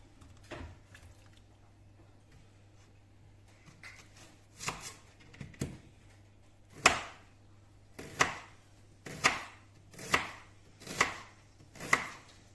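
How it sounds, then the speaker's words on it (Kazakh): A knife chops onions on a cutting board for a large Afghan-style kazan meat dish, starting with a few soft cuts and then settling into about seven sharp, evenly spaced strikes, close and clear over a low steady hum. "бірінші міне пиязымызды жақсылап турап аламыз"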